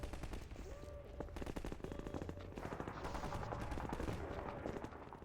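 Rapid automatic gunfire from the Half-Life 2 video game, a dense, continuous stream of shots over a steady game background that never lets up.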